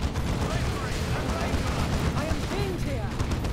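Dense grenade blasts and rattling gunfire roar continuously in a Dawn of War 2 Elite Mod 1v1 battle, a loud unbroken wash of combat with commentators talking over it.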